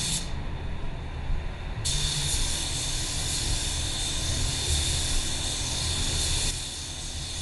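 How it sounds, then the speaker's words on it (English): Spray gun laying a heavier final clear coat onto a white car, a steady close hiss of atomised paint that stays continuous throughout with a brief change in tone partway. "Here's the last coat of clear, putting on a little bit heavier than the first one,"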